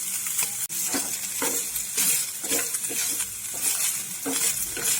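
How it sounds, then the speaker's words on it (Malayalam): Boiled chicken pieces fry in butter in a pan, giving a steady close sizzle. Repeated stirring scrapes and clatters against the pan throughout. "ഇനി ഇതിലേക്ക് നമുക്ക് വേവിച്ച് നമ്മൾ ചെറിയ പീസാക്കി വെച്ചിരിക്കുന്ന ചിക്കൻ ചേർത്ത് വറുത്തെടുക്കാം."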